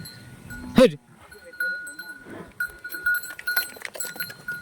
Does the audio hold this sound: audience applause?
no